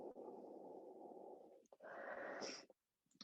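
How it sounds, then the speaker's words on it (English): Audible yoga breath during a Hatha yoga class: a soft, wheezy exhale held for about a second and a half, then a brief breathy inhale-exhale, close and quiet, ending in silence. "breathing with sound"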